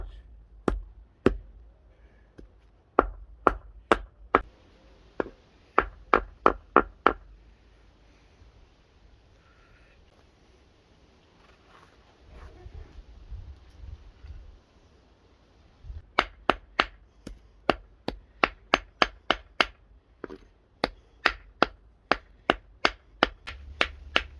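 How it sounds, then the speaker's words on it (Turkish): Sharp repeated thuds as plant stalks and leaves are pounded and crushed on a spread cloth, coming in irregular bursts of strikes with a quieter pause in the middle, close and loud. "surfa bezinde bunları eziyoruz arkadaşlar"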